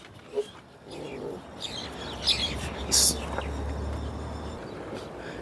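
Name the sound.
bird chirping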